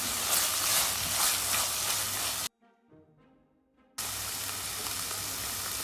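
Crushed garlic, pepper, curry leaves and cumin paste sautéing for mushroom masala, a loud close sizzle with stirring that drops out briefly midway before resuming.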